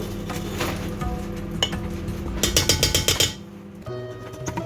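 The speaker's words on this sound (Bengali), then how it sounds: "তো এটাকে একটুখানি নাড়াঘাটা করে দিই মিশিয়ে দিই আর কি" A ladle scrapes and clanks against a pot while chicken biryani is stirred and mixed, with a burst of rapid rhythmic metallic scraping in the middle, loud and close, no talking.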